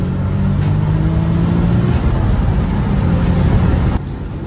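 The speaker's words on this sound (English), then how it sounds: "So we're gonna do a little second gear pull." A modified Infiniti G37 S pulls hard in second gear, its engine droning loud and close with a rising tone before it eases off abruptly near the end, no voices over it.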